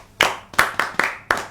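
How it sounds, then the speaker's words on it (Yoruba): Audience clapping for a child in five sharp, separate bursts with gaps between them, each one sounding like a single hand clap or a small unison clap that fades quickly, close and fairly loud, with no talking. "ẹ pàtẹ́wọ́ fún lẹ́ẹ̀kan sí"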